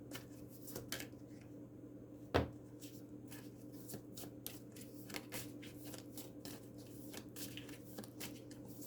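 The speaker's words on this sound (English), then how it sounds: "2 cards, please." Tarot cards shuffled by hand, a quiet series of soft riffling slaps and flicks repeating in an uneven rhythm, with one sharper knock early on and no speech.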